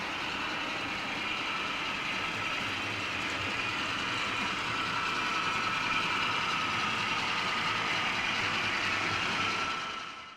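A model railway train rolls steadily over a board join on a layout, a continuous close rumble of wheels and motor holding level before fading at the very end.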